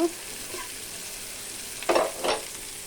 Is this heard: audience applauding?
no